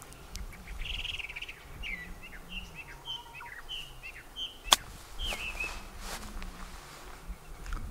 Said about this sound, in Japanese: 小鳥のさえずりが心地いいね